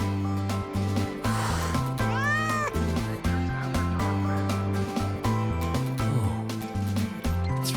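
A frightened stray cat in Wuthering Waves lets out a clear rising meow partway through, set against steady background music that plays throughout.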